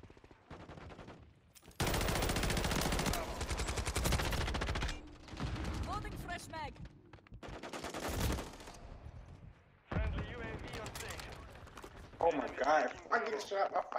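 Video game gunfire hits the player from several shooters at once, with bursts of loud rapid automatic shots and shotgun blasts in clusters, mixed with game effects and a voice talking over the action.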